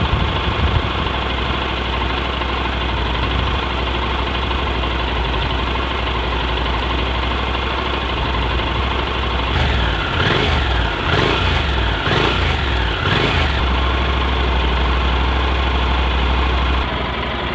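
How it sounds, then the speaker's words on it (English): A 2012 Honda NC700X with an inline two-cylinder engine idles steadily and quietly, a low even rumble running throughout, with a brief flurry of clicking and mechanical rattles toward the end. "The nature of this inline 2-cylinder bikes, they're not great sounding bikes."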